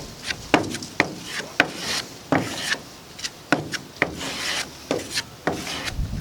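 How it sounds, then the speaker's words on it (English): Harsh rhythmic scraping, like metal rasping on metal, during work on a budget SR20-powered 240SX drift car build; about a dozen repeated close strokes with sharp attacks, with no talking. "It's like scraping metal on metal."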